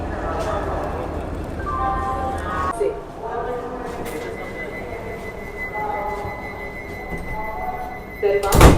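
An automatic door on a Howrah–Puri Vande Bharat Express closes with a soft thud and pneumatic hiss inside the humming carriage, followed by a quieter interior drone and another clunk near the end.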